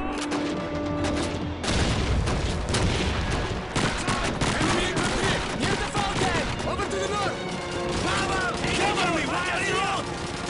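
MG42 machine gun fire in Call of Duty 2, loud rattling bursts and scattered gunshots running throughout, with shouted voices and other battle noise mixed in.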